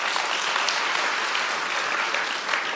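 Loud, dense applause from a church congregation fills the room steadily and evenly, with no voices heard over it.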